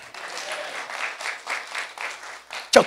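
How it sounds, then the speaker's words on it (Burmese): A congregation claps along rhythmically during a church service, with steady waves of applause throughout and one louder, sharper burst near the end. "အဲ့ဝိညာဉ်တော်လက်ခုပ်တီးရအောင်"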